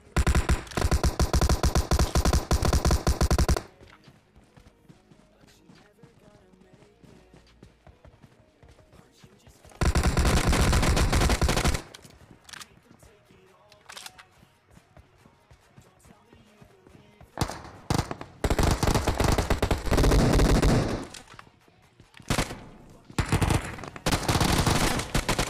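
Gunfire in PUBG on a phone: long loud bursts of rapid automatic shots, then quieter stretches filled with scattered single cracks and short volleys, some close and some farther off, with someone talking over parts of it.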